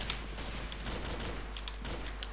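Video game gunfire, rapid faint bursts of shots over a steady background hum, distant and low in level.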